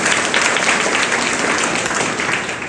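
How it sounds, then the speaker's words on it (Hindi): Loud, dense applause from a group of school children in a classroom session in Odisha, a steady wash of clapping that fades slightly toward the end. "बजाइए इनके लिए जोरदार ताली"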